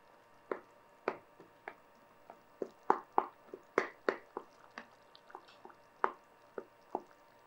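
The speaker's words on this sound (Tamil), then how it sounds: "இப்போ நல்லா கொதிச்சிட்ருக்கு." Thick peanut kuzhambu simmering in a pot, with soft, irregular bubbling pops and blips, close and fairly quiet, no talk.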